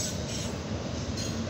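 A CSX northbound auto rack freight train passes on track one in the evening, a dense continuous rumble and roll of wagons close by, steady and loud with no pause.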